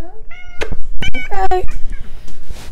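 A cat meows several times indoors, close and fairly loud, with a person talking around the meows.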